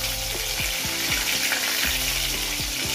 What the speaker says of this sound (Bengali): স্লো গ্যাসে এটা ভাজা হবে।